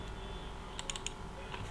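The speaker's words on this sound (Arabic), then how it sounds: "نضغط انتر." Keys clicking on a computer keyboard in a quiet room, a quick cluster of four or five faint taps ending in an Enter press, over a steady background hum.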